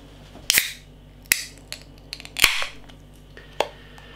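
A can of Arbor Ales Tiny The Welder double IPA cracks open with a sharp snap and hiss, followed by a few more clicks and metallic taps nearby in a quiet room.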